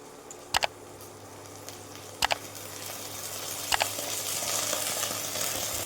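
Coriander and fennel spice paste frying in a pan for a Bengali katla fish curry, a soft steady sizzle that builds gradually, punctuated by three sharp double clicks of a spatula against the pan.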